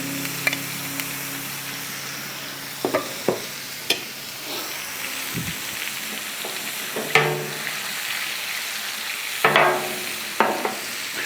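Butter and steaks sizzling on a Blackstone griddle, a broad continuous hiss broken by sharp clicks and scrapes of a spatula, with no voices.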